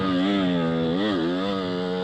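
A Beta 50cc enduro motorcycle engine revving hard during a wheelie, loud and close with a buzzing, high-pitched two-stroke whine that dips briefly and climbs again.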